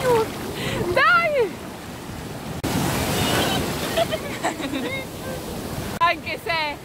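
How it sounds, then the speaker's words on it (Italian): Rough sea surf rolls and crashes at a beach, with a broad, steady roar and gusts of wind on the microphone, while people shout and talk over it. "Anche se il mare è super agitato"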